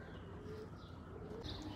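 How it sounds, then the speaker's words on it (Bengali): Pet pigeons in flight nearby, with faint, low cooing in a brief, quiet moment. "এই যে 3টে পায়রা উড়ছে"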